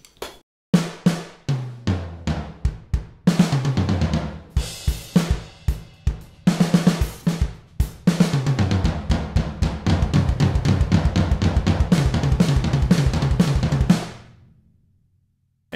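An Alesis Nitro Max electronic drum kit on its Dark Mahogany kit, original mix, plays a loud, close groove of kick, snare and cymbal hits, building into dense, fast fills before ending on a decaying crash.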